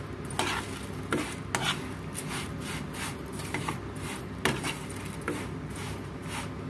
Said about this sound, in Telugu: సేమియా వేసి బాగా వేయించుకున్నాము. కొంచెం కలర్ చేంజ్ అయ్యేంత వరకు వేయించుకోవాలి.